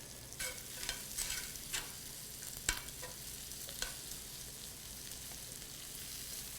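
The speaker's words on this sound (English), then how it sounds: "we're going to go ahead and add our fingerling potatoes" Fingerling potatoes land in a pan of sizzling bacon, garlic and onion, giving a faint, steady frying hiss with a few soft stirring clicks and no speech.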